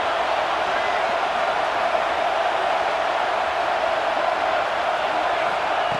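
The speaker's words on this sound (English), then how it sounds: "Listen to the crowd energy here in the early going." Stadium crowd in the College Football 26 video game, a dense, steady roar of cheering that holds at an even level for the whole stretch without clear breaks.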